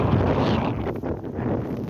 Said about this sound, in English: there's a strong gust of wind